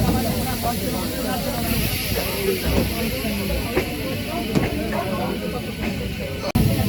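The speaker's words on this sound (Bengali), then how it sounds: "তো এই মুহূর্তে ট্রেন কিন্তু আমাদের এগিয়ে চলেছে" Steady hissing rumble of a moving Krishnanagar City to Sealdah local train, heard from inside the crowded carriage, with faint clicks of the wheels on the rails and a sharp knock near the end.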